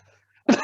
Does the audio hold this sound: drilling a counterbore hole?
no